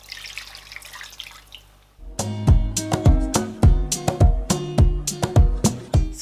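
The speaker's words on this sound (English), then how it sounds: "So now I'm going to add some water from the meat." Meat stock water is poured into a pot of okra soup, starting with a soft hiss and then turning into a fast run of splashy, gurgling glugs and drips, close and fairly loud with no talking.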